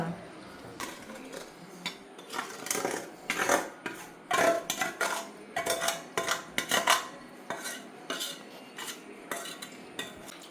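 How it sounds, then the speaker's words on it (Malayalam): Ground masala paste being stirred into beef tripe in a pot, bursts of spoon scraping and metal clanks against the vessel, moderately close with quieter pauses between strokes. "അരപ്പൊക്കെ ഇട്ട് നന്നായിട്ട് ഇളക്കി കൊടുക്കണേ കേട്ടോ"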